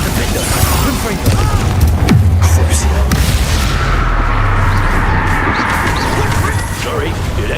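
Spell explosions and impact crashes from the video game Hogwarts Legacy, loud booms and bursts over a steady rumbling battle bed, with a sharp hit near the start and speech-like sounds in the mix.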